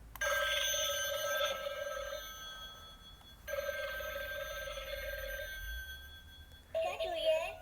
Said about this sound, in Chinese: 这是它开启的声音。